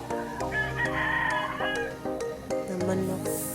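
Several roosters crow in overlapping calls, long drawn-out cock-a-doodle-doos rising and falling, fairly close and loud with no talking.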